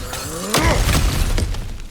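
An object is smashed in God of War Ragnarok, giving a sudden loud crash followed by scattering, shattering debris that rattles for about a second.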